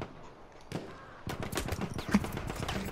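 Lewis gun machine-gun fire in Battlefield 1: rapid bursts of repeated shots, fairly close, starting as a single crack then settling into a sustained rattling stream over battlefield ambience.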